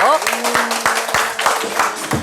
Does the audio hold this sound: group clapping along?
yes